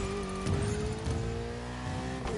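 A Ferrari 488 engine revs hard at high speed in a racing game, a steady high-pitched drone with rising and falling pitch and brief surges, close and continuous throughout.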